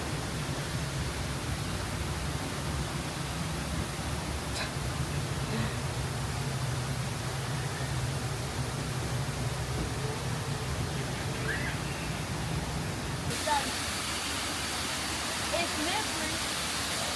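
A hidden waterfall in Thailand gives a steady, close, full rushing roar of falling water without a break. The tone shifts slightly partway through.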